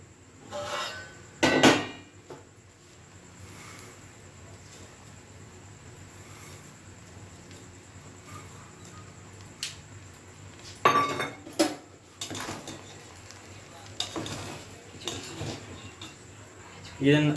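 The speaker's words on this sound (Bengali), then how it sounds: "এবার ঢাকা খুলে চিনি আর গরম মশলা দিয়ে দেবো।" Vegetable pulao is cooking in a pot. The lid comes off with metallic clinks and clanks, then scattered spoon and pot knocks follow as sugar and garam masala go in. The sounds are close, intermittent and moderately quiet.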